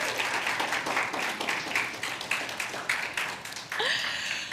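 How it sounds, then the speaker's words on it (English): An audience at a talk applauds steadily, a dense, even patter of many hands clapping that carries on throughout and swells again near the end. "Let's give him a little round of applause."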